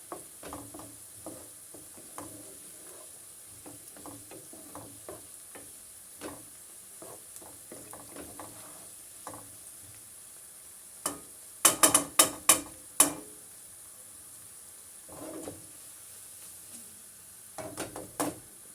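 Onions sautéing in a pot for a Turkish potato kavurma, a quiet sizzle broken by scattered clicks and clatters of stirring, with a louder burst of scraping partway through.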